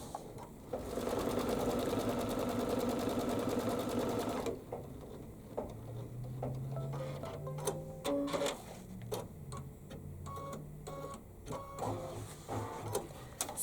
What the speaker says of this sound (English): go ahead and stitch down my layer of batting.